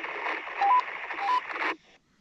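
A GMRS transmission received through a Wouxun KG-Q10G handheld radio on its stock antenna: a single band-limited, slightly tinny burst with brief tone beeps that runs for under two seconds, then cuts off to near silence.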